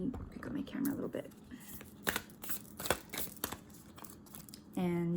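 Crisp papery riffles and snaps of cards being shuffled, close up, in several quick bursts, followed by a short hum at the end.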